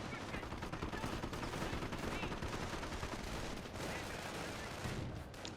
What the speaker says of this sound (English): More forces firing there.